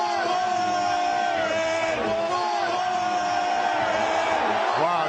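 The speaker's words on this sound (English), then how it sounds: "Wow, they're cheering. They're cheering." A Philadelphia Eagles stadium crowd cheers, yells and whoops in a dense, sustained roar that stays loud throughout with little variation.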